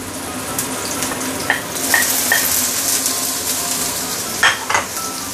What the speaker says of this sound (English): You want to saute our ginger and garlic.